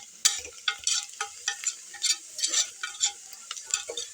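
Tomatoes and spices, chilli powder, garam masala and turmeric, sautéing in oil for a tomato-onion biryani, with repeated scraping stirs over a light sizzle, close and steady, no voices.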